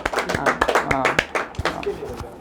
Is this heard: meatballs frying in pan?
no